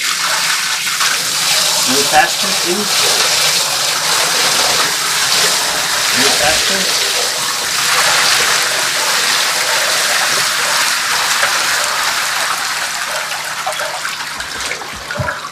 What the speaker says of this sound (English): This is the last barrel of 135 gallons of water that's being poured into my living room and dining room.